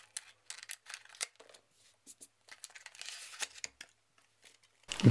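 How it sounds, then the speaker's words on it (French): A Novoo power bank is unpacked from its box, with scattered crinkles, scrapes and short tearing or rustling bursts of packaging handled close up, and a louder thump at the very end. "On va déballer la batterie tout de suite afin de voir à quoi elle ressemble."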